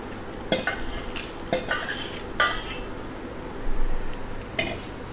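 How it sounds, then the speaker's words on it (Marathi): Spices are stirred into oil for Khandeshi raw mango pickle. Several sharp scrapes and clinks of a spoon against the vessel sound over a soft, steady background hiss, close by. "आता हे सगळे आपल्याला मसाले एकत्र करून घ्यायचे आहेत।"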